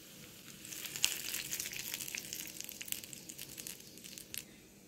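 Mustard seeds, urad dal and curry leaves sizzle and crackle in hot oil as a tempering for a broad bean chutney, with a steady fizz broken by sharp pops and crinkly bursts close by.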